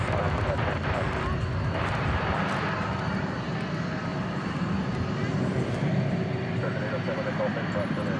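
An MD-11 airliner at DFW Airport at night gives a steady, broad jet engine roar that fills the whole span at an even loudness, with faint voices in the background.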